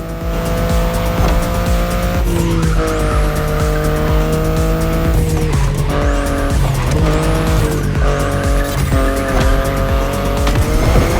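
BMW i8 driving in The Crew Motorfest racing game, a loud steady engine drone with shifting tones and repeated tire squeals and skids, continuous and close throughout.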